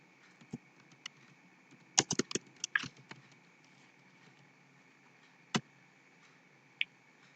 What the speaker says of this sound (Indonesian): Di sini kita ketik nomor, nama,